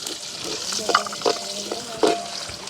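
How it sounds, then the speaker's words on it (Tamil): Fennel and fenugreek seeds sizzle in hot coconut oil, a steady frying hiss broken by a few louder crackles and stirring knocks. "தாளிக்கிறதுக்காக நாங்கள் பெருஞ்சீரகம் வெந்தயம் போட்டுக்கொள்வோம்."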